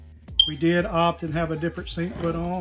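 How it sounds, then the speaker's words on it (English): A smoke alarm in a Sundowner toy hauler, low on battery, gives one brief high chirp early on, heard faintly under a person's steady talking. "You hear a beep in the background, that's our fire alarm. It needs a battery."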